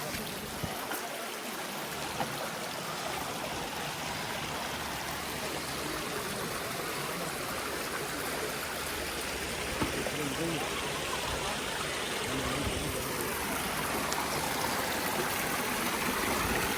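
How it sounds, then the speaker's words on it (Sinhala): Waterfall flowing at David's waterfall in the Ein Gedi desert oasis, a steady broadband rush of falling water that continues unbroken from start to finish, close and moderately loud. "මේ කාන්තාරි මැදින් දාවිත්ගේ දිය ඇල්ල එංගෙඩි වල ගලාගෙන යන ලස්සන අපූර්ව"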